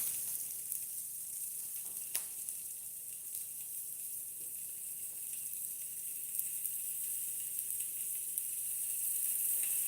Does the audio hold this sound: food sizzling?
yes